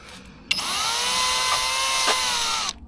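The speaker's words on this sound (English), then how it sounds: "I need to drill here." A power drill whirs steadily for about two seconds at close range, a sustained high-pitched motor whine that starts and stops abruptly.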